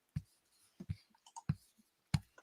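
Sparse keystrokes on a computer keyboard in a quiet room: a handful of separate sharp taps, irregularly spaced and close by, with no talking.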